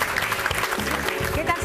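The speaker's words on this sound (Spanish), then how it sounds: "¡Un aplauso para mí!" A small group claps briskly in a short burst of applause, close by, with talk mixed in over it.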